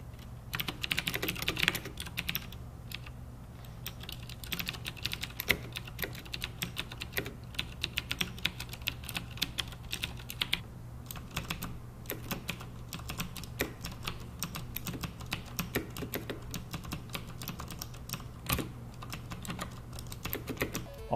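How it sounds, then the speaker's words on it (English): Rapid, crisp clicky keystrokes on a CM Storm QuickFire XT mechanical keyboard with green switches, typed steadily and continuously at close range with a faint hum underneath. "we need to let you guys hear what the greens sound like"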